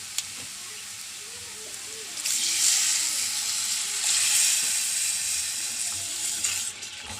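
Water hits a pan of fried coriander, chili and turmeric masala, setting off a loud steady sizzle and hissing steam that swells after a couple of seconds and keeps bubbling to the end.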